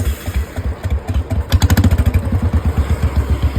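A Royal Enfield motorcycle runs with its silencer removed, the open exhaust idling in a loud, uneven thump that quickens into a rapid, sharp pulsing train of bangs close by.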